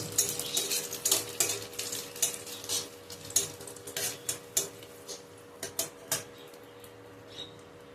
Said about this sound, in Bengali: আমি জিরে অ্যাড করে দিলাম এটাকে আমি ভালো করে নাড়াচাড়া করে ভেজে নিই